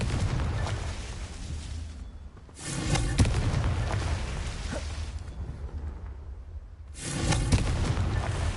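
Confringo fire spell blasts in Hogwarts Legacy: two loud, broadband explosive bursts a few seconds apart, each roaring and then fading into a rumbling background.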